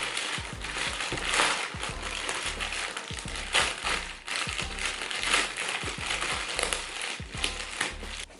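Lash scissors snip and crinkle through a gray plastic mailer bag, a steady run of close, crackly crunching and cutting over quiet background music.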